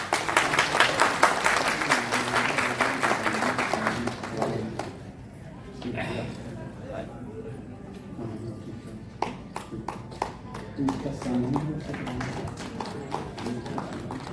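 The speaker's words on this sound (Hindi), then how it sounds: "कम से कम पत्रकारों की तो तालियां बजती रहे।" Journalists at a state association meeting in Raipur clap in scattered bursts, loud at first and then thinning to sparse individual claps, with people talking throughout.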